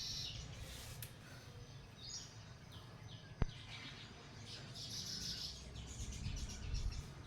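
Birds chirping in trees in front of a house on a quiet morning: faint scattered high chirps and short calls over soft ambient hiss, with one sharp click partway through.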